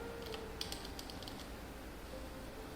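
Light key clicks tap on a computer keyboard in short, uneven bursts, ending with an Enter press, all faint and close in a quiet room. There is no talk.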